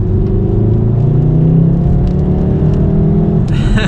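A VW MK8 Golf R in race mode accelerates on an open road, its engine giving a loud, steady droning rumble with rising tone, heard from inside the car.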